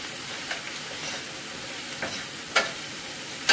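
Fried cabbage sizzles steadily in a hot pan while a spoon stirs it, giving soft scraping scuffs and a few sharper clicks against the pan over the constant frying hiss, with no talking.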